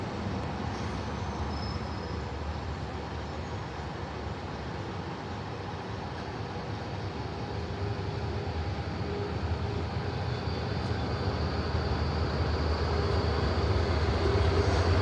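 An Adelaide tram rumbles past in a steady, continuous roar that swells slightly toward the end, with no voices.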